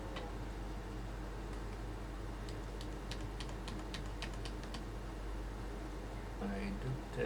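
Keys on a computer keyboard click in a quick run of light, close taps, fairly faint, over a low background hum with some quiet talk.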